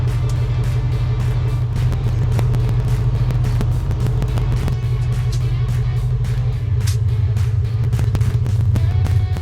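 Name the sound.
2006 Monte Carlo SS driving after sitting for years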